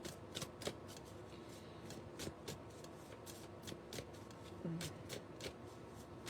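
Cards being shuffled close up in repeated riffling bursts, with the crisp snaps of the deck coming in an uneven rhythm.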